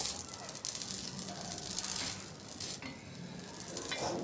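A corn paratha sizzles and crackles softly in an oiled pan over a medium flame, a continuous low frying hiss with faint scraping, no voices.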